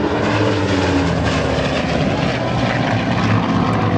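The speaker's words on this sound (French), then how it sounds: "Et ben voilà la dernière présentation en vol de Steve Gray avec son Bearcat" A Grumman F8F Bearcat piston fighter roars through a flying display at the Ferté-Alais air show, a loud continuous propeller-engine drone holding steady throughout without breaks.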